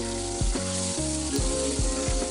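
Egg frying in hot oil in a pan after parathas, a steady close sizzle with a few louder bursts and low scraping knocks from a spatula at regular intervals, no voices.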